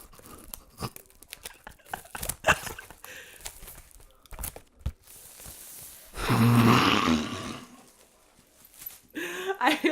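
Plastic wrapping is peeled and torn off a box of fan merchandise, with crinkling and tearing bursts scattered across the scene and one longer loud rip, close to the ear.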